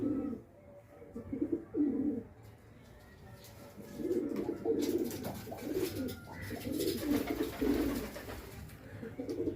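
High flyer pigeons coo in repeated low, throaty bursts, a few birds close by with short pauses between calls and faint background noise.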